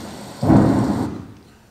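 A stage thunder and rain sound effect in a school theatre show breaks out as one sudden rumbling thunder burst that rolls and fades over about a second, with a rainy hiss underneath.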